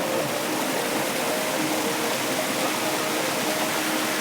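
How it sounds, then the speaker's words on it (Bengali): A nameless flowing waterfall stream behind Shivkund in the Amsoi range forest of Assam gives a steady, even rush of water, moderately loud and unbroken, with no voices. "এই হচ্ছে তার ঝর্ণা, প্রবাহমান ঝর্ণা।"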